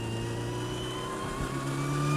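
A Ford RS200 rally car's engine holds a loud, steady drone with strong tonal harmonics, its pitch creeping upward toward the end as the revs build.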